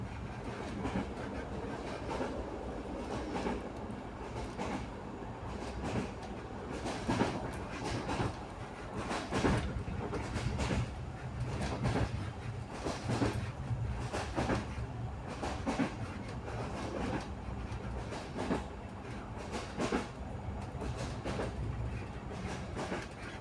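A railway wagon rolls along the rails with a steady clickety-clack of wheels over the joints. The sound is continuous and moderately distant, with no voices.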